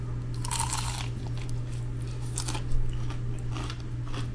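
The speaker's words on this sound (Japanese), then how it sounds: "すごい音 ケンタッキーよりカリカリ。" Crunchy American fried chicken with a crisp, KFC-style coating being bitten and chewed up close, giving a few sharp crackling crunches over steady background hum, with no talk.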